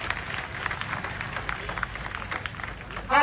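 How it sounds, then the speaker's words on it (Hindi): An audience at an outdoor address by journalist Rubika Liyaquat claps steadily, a dense patter of hands from a seated crowd lasting throughout, with a brief louder swell at the end. "तो एक बार जोरदार तालियां आपके सब्र के लिए,"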